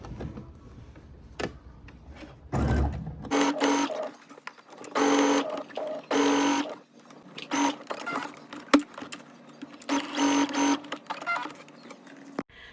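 A sewing machine stitches a tennis bag together with the straps tucked inside, running in several bursts of rapid mechanical whirring separated by short pauses, fairly close and clear with no talk.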